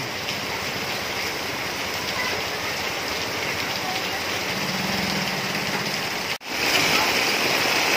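Heavy rain pours down steadily on a rainy trip home, a dense continuous wash of noise close by, with a brief dropout near the end.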